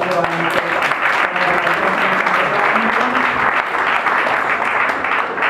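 Audience applause at an Italian regional party political gathering, a dense steady clatter of many hands sustained throughout, with voices and crowd noise mixed in underneath.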